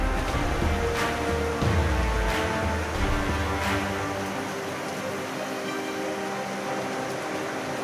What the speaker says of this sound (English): we got some wind gusts